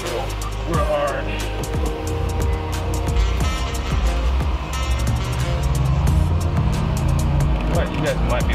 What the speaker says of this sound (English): I hit the gas real hard.